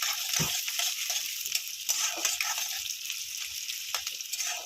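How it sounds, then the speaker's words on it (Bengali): Four or five whole garlic cloves frying in hot oil give a continuous close sizzle with faint crackles and a few soft stirring knocks. "গোটা রসুন আমি তেলের মধ্যে দিয়ে দিয়েছি।"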